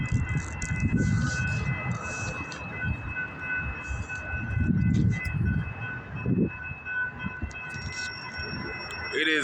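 Train rolling along railroad tracks past a bystander, a steady rumble with surging low swells and faint high tonal whines, heard close and continuous throughout.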